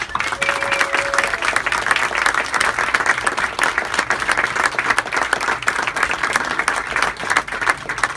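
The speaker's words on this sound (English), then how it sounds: "Let's give them the biggest round of applause of the night." Loud, sustained applause from a large crowd at a housing event for returning tenants, dense clapping that continues unbroken throughout.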